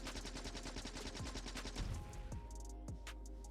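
Rapid bursts of gunfire at a box in Factorio, a string of sharp, evenly spaced shots that is loud and alone, then a few scattered impacts and falling tones as it dies away.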